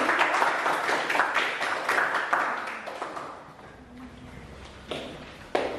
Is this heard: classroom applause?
yes